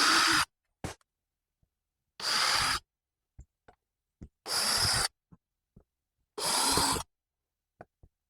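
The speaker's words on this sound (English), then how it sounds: "I'm using a very small drill bit to drill pilot holes, and then letting the screws do most of the work." Short bursts of a small drill bit boring pilot holes into a plastic Lifetime Tioga kayak hull, four loud whirring runs of about half a second each, separated by pauses with faint clicks and handling knocks.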